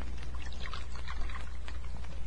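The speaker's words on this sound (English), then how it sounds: "I'm going to pour for you, si?" Coffee is poured into a cup at a café table in an old-time radio detective drama set in Mexico, a steady liquid splash running continuously under a faint background hum.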